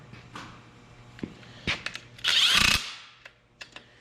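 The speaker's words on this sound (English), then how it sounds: "And we will tighten them just with the electric impact gun here." An electric impact gun runs down bolts on a 12-valve Cummins engine during a rebuild, giving one loud half-second rattling burst, with scattered metallic clicks and clanks before and after it in a quiet shop.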